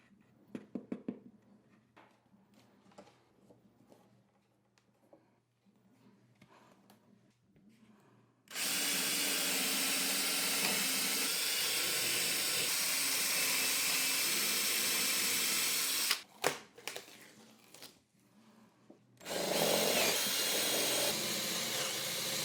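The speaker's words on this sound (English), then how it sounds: "I'm marking off a spot on the drill bit so that I don't over-drill and punch through the front of the logo" A hand drill whirs loudly in two long bursts into the back of an LED logo sign, separated by a short pause, after quieter handling and tapping sounds.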